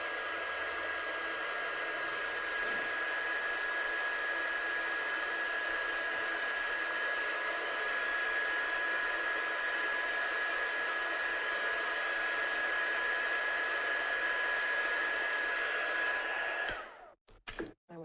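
A heat gun blows in a long steady roar with a faint whine to set embossing on a handmade card, then cuts off with a few clicks and handling knocks near the end.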